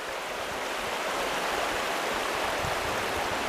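A fast-flowing river on a trout fishing trip, rushing water giving a steady, close, loud roar throughout with no voices.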